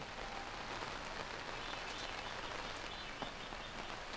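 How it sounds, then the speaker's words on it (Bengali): Steady, dense rainfall hisses continuously, with occasional brief drops standing out against the constant wash of noise. "কোথাও হালকা বৃষ্টি, কোথাও মুষলধারে চলছে বৃষ্টি"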